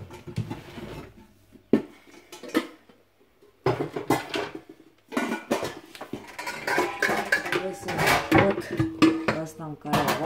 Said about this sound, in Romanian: Trebuie să scot oala.